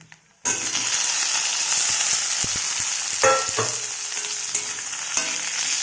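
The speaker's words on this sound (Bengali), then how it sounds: "দিয়ে এটাকে একটু লাল লাল করে ভেজে নেব।" Potatoes fry in hot oil with tempering spices, giving a steady loud sizzle with occasional scraping and stirring knocks from a spatula, close and continuous.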